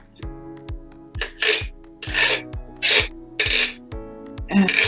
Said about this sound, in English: And the Güiro sounds like this.